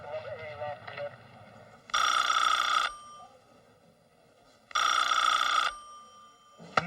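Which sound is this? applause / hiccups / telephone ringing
telephone ringing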